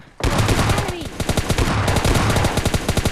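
Rapid automatic gunfire in PUBG Mobile Lite, loud and close, with a dense burst of repeated shots running continuously after a brief quiet start.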